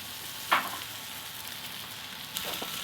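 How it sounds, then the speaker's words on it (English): Teres major steak sears in a hot pan with a knob of butter and garlic, giving a steady broadband sizzle with a sharp crackle spike near the start and another burst of spatter toward the end. "Going to sear it quick on each side before we turn it completely over. A little knob of butter, throw in some garlic"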